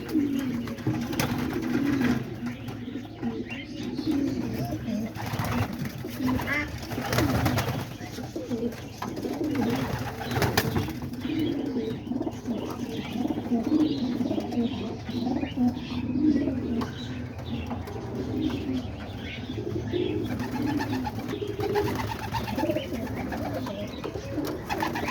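Pigeons coo repeatedly in a loft holding newly hatched baby pigeons, soft rolling calls overlapping with occasional chirps and a wing flutter, steady and close throughout.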